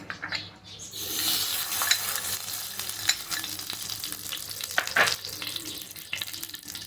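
Panjiri ingredients are stirred and roasted in ghee in a pan, giving a steady close-up sizzle with scraping and clinking of the spoon against the pan throughout, and no talking.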